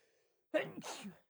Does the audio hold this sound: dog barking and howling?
no